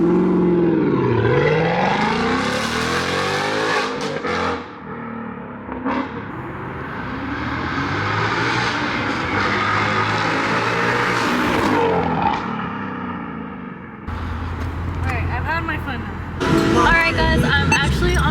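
A 2015 Ford Mustang with a stainless steel Valvetronic exhaust drives by, heard from outside the car. The engine note rises and falls through loud revs and accelerations, alongside some speech.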